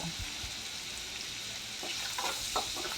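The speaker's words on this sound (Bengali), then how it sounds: "আর হালকা লাল করে চিকেনটা ভেজে নেব" Chicken pieces seasoned with salt and pepper fry in hot oil for restaurant-style mixed fried rice, a quiet, steady sizzle with occasional crackles and stirring scrapes, no talking.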